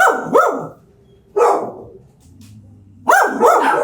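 A frightened shelter dog barks in three loud, close bursts separated by short pauses, with a low growl between them and no speech.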